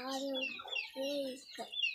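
Chickens on a poultry farm, a close, loud run of clucking and short calls with harmonic tones, uninterrupted and with no talk over it.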